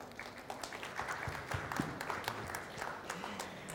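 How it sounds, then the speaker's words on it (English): A conference panel audience at IDCEE 2014 applauds in a steady wash of clapping for a few seconds, somewhat distant and even in loudness. "Please give the applause."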